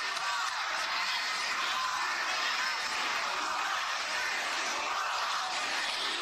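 Faint, distant crowd applause and cheering from a Republican National Convention speech playing back as a recording, steady and continuous throughout.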